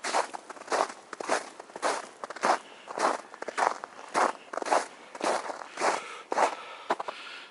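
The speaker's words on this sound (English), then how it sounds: "here's the sound of the wonderful, nice, frosty snow" Footsteps crunch steadily through frosty snow in the Swedish woods, a dozen or so even, close steps with a crisp granular texture and no other sounds around them.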